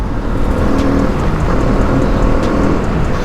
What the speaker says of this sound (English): You see the frantic pickup, you see how the RPM rises, the speed goes up